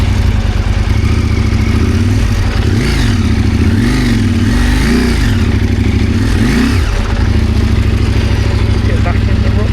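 Motorcycle engine on an adventure bike in a cross-rutted track, loud and close, rising and falling in repeated revving swells as the rider fights the rut in too high a gear.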